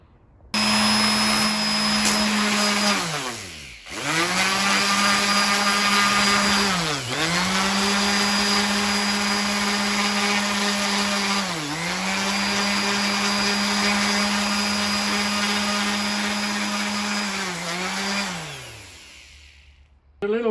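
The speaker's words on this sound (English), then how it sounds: "Give that a bit of a sanding" A power sander works over a surface with a loud, steady motor whine that sags in pitch each time it bears down. It cuts out briefly early on, runs again for a long stretch, then winds down near the end.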